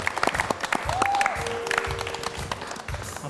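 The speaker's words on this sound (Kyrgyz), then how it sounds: "кол чаап тосуп алалы" An audience claps to welcome a guest at a wedding-themed television show, a short burst of scattered applause mixed with a brief whistle-like tone and some background voices.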